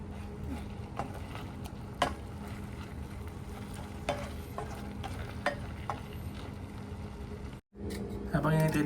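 Minced shrimp with salt boiling in a pot for balaw balaw, a steady bubbling and simmering hiss with occasional stirring knocks, while a person talks over it.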